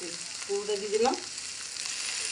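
Mashed potato being stirred in a frying pan: steady sizzling hiss with a brief scrape of the spatula, close and moderately quiet, no talking.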